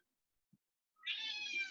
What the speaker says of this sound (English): I'm sorry for my cats meowing.